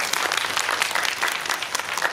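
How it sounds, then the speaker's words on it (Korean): Dense, steady audience applause at a film stage greeting in a cinema, loud and continuous with crisp overlapping claps and a faint crowd murmur beneath. "여러분 큰 박수 줍니다"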